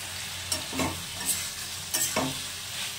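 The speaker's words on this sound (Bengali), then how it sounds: "জল দিয়ে দিয়ে এভাবে করে সুন্দর করে কষিয়ে নিচ্ছি" Spice paste frying in a pan with splashes of water for a small-fish curry with potato, aubergine and beans, a low continuous sizzle with a few soft stirring scrapes, close and fairly quiet.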